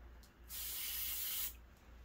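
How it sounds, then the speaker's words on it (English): A single short burst of silicone aerosol spray hisses for about a second, quiet and close, with a faint hum behind it. "spray some silicone spray."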